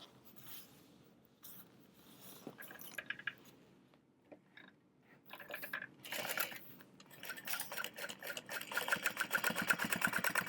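A sewing machine top stitches the folded flap of an Esme crossbody bag, running in short bursts that build to a steady, fast, close whirring stitch toward the end.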